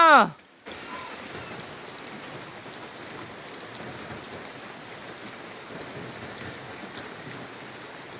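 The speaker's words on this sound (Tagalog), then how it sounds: "Bilisan nyo! Umuulan na!" After a brief opening voice, steady rain falls on a goat herd outdoors in a soft, continuous hiss that carries on evenly throughout.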